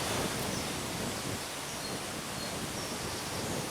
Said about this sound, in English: the wind actually picking up in strength as well